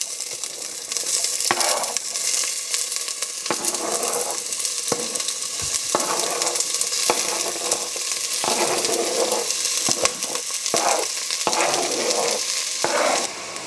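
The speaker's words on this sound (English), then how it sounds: "my pot is nice and hot over here. I'm going to start searing my onions" Onions sear in a hot pot with a loud, steady sizzle, broken by repeated scraping and stirring knocks close by.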